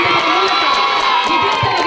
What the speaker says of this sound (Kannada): ಜೋರಾದ ಚಪ್ಪಾಳೆಯನ್ನು